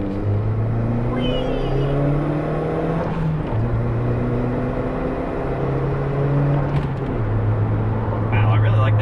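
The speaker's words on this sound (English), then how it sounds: "let's see how quickly this thing can accelerate" A turbocharged Toyota Yaris pulls hard inside the cabin, the engine note climbing through several gears in repeated rising sweeps broken by brief shift pauses, loud and steady, with people talking.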